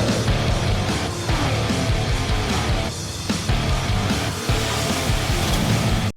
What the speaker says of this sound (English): Can you hear the rain? Pitter-patter on the roof.